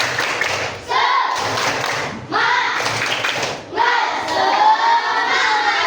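A class of children performs tepuk semangat, a patterned clapping chant in a classroom lesson, clapping in short rhythmic bursts with brief pauses while their voices chant and shout along loudly and close by.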